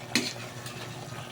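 Shrimp paste (alamang) being sautéed in a pan, giving a steady low sizzle with one sharp scrape or clink of a utensil near the start; no voices.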